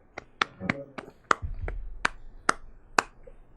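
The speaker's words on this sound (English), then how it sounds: "Let's give it a round of applause." A small, sparse smattering of applause: a handful of separate claps spaced out over a few seconds, close and quiet.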